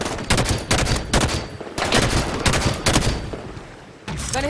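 Rapid bursts of automatic gunfire and repeated shots from a firefight in the video game Halo 5, loud and close, crackling in dense volleys throughout with a short pause near the end.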